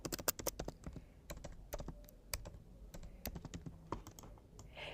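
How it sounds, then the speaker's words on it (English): Computer keyboard typing at a desk, a steady run of quick, crisp key clicks with short pauses, close and moderately quiet, with no talking. "So I'm going to type T on my keyboard and I'm going to type create a password."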